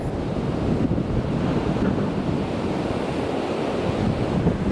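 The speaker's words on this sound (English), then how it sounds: "The wind is too strong." Strong wind buffets the microphone on the coast at Peniche, Portugal, a steady loud roar with surf crashing beneath it and no break in the gusting throughout.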